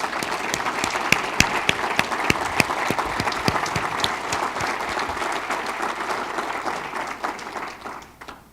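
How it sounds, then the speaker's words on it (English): A roomful of attendees at the Eggs and Issues business breakfast in Maine claps in a round of applause, dense and fairly loud with a few sharp individual claps standing out, tapering away in the final second. "could we have a round of applause?"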